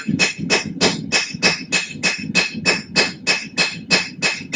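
Steady metallic hammer blows ring out in an even rhythm, about a dozen strikes on hot steel while forging scrolling tongs, close and clear with no talking.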